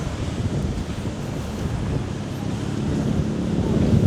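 Steady strong wind rumbles and roars across the microphone at night in Pattaya, Thailand, growing slightly stronger toward the end, with no clear voices over it.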